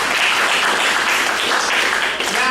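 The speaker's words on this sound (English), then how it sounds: "give a round of applause" Brisk, dense applause from an audience at an improv comedy show, a full continuous burst of clapping that stays loud before a voice begins at the very end.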